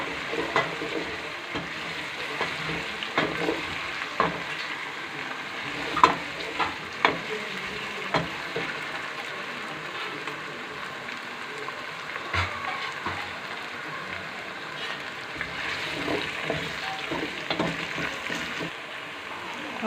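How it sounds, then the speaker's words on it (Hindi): Garlic and ginger frying in oil in a pan, a steady close sizzle with scattered crackles and occasional stirring scrapes throughout, no talking. "हमारा लहसुन और अदरक फ्राई हो गया है।"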